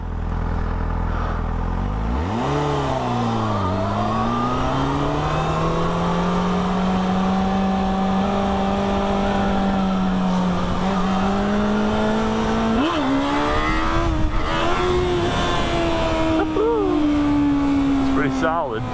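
A Yamaha FZ6 motorcycle engine roars loudly up close, revving and holding a strong drone that rises and dips through repeated throttle bursts during wheelie practice on a public road.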